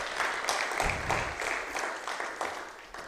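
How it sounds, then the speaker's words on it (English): Clapping from the crowd at the 16th annual FilmAid Film Festival, a sustained wash of many hands with sharper individual claps popping through, moderately distant and fairly soft. "Let us clap."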